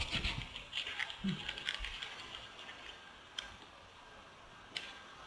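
A computer keyboard's tab key is tapped a few times while switching modes in Blender, giving faint, sparse, close clicks spaced seconds apart over quiet room noise.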